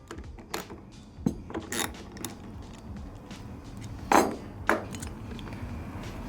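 Metal tool striking a BMX pedal part to knock it loose, a few sharp knocks and clanks among light handling noises, close by in a quiet shop.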